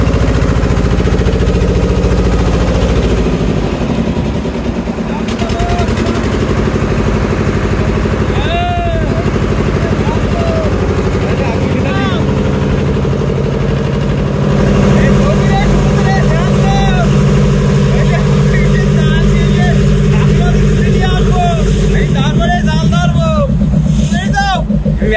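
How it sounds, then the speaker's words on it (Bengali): Engine of a fishing trawler running on the Bay of Bengal near the Sundarbans while the crew hauls an iron cable, a steady low diesel throb throughout under frequent talk and shouting among the fishermen. "তখনই আমরা আস্তে আস্তে ট্রলার চালিয়ে টান দিব।"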